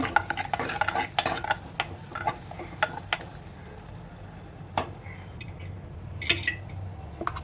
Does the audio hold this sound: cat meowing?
no